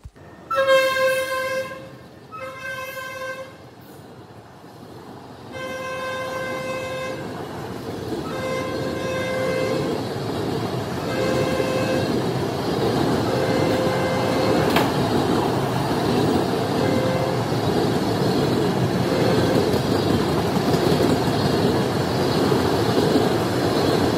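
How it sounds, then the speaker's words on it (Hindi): Train horn toots in several short blasts at Modinagar railway station in Ghaziabad, Uttar Pradesh, followed by the steady, swelling rumble of a passing train on the platform. "काफ़ी साफ़ सुथरा रेलवे स्टेशन है ये मोदी नगर का जो ज़िला गाज़ियाबाद में पड़ता है उत्तर प्रदेश के"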